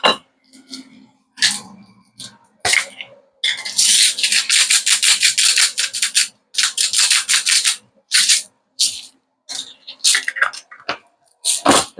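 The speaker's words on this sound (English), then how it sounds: "I'm crushing a bit of salt." Pink salt being crushed by hand, giving a run of close, crisp gritty crunches and squishes in irregular bursts, with short pauses between and a longer dense stretch in the middle.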